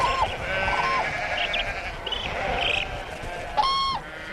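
Sheep bleat in the high desert of Ladakh, several wavering calls overlapping from nearby animals over a rough, breezy outdoor background, with one louder bleat near the end.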